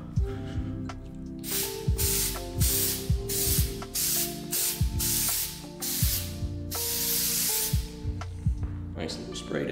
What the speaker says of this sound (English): Nice little spray to end it.